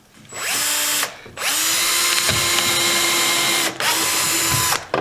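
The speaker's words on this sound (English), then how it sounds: "And then drill your next hole." Cordless drill boring a hole through scrap metal, a loud, close, steady whine running for several seconds with brief pauses and restarts, no talk.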